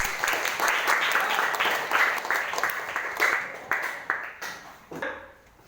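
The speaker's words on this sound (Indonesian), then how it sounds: "beri tepuk tangan buat kelompok Rana" A classroom group claps for a fellow group of students after their presentation, a burst of steady hand clapping that thins out and fades over several seconds.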